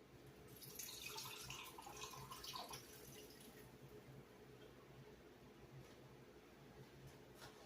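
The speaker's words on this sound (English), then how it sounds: "Now we're going to drain our apples." Apples being drained for apple bread give a soft stream of water splashing and trickling into a sink, a little louder at first and then settling into a quiet, steady run.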